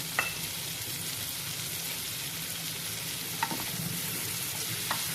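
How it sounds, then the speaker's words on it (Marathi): Potatoes grilling in a pan, with a steady broadband sizzle running throughout and a few brief clinks of stirring, no voices. "आपल्याला चार ते पाच मिनिटे हे बटाटे चांगले ग्रिल करून घ्यायचे आहेत"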